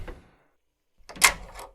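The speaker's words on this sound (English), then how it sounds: "I'm locking the door." A door being locked in a haunted house: a quiet knock near the start, then after a pause a sharp close click and rattle of the lock, fairly near and alone.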